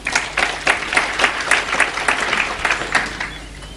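Applause from a church audience during a Bible sermon, a crowd clapping in uneven bursts that swell and fade across a few seconds, moderately loud and without talk over it.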